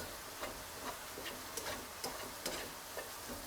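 Cauliflower rice stirred in a hot pan, a rhythmic series of spatula scrapes roughly every half second over a low, steady sizzle.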